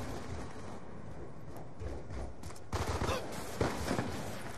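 Gunfire in Call of Duty Black Ops 2, a steady game-mix background with a few short louder bursts of shots near the end, fairly muted overall.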